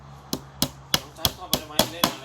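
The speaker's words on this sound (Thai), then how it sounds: "อีกมุมอีกด้านหนึ่งที่เรายังไม่ได้ตอกนะคะ" Hammer driving nails into a multipurpose shelf during assembly, seven sharp evenly spaced knocks in quick succession, close and loud.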